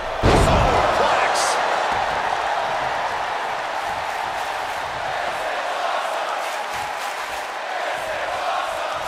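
A heavy superplex slam in WWE 2K24 women's tag-team wrestling, one sharp loud impact followed by sustained crowd roar that stays dense and steady to the end.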